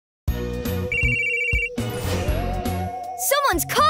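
A phone rings in the PAW Patrol Academy video game, a short electronic ringtone over game music, followed by a voice speaking near the end.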